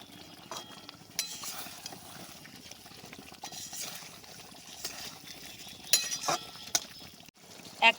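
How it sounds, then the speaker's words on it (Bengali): Fried katla fish is stirred into a fennel and yogurt spice mix in a pan, with soft scraping and a few sharp utensil clinks against the pan over a quiet sizzle, no talking. "এবার নেড়ে চেড়ে ভালো করে মশলার সঙ্গে মাছগুলোকে মিশিয়ে নেব।"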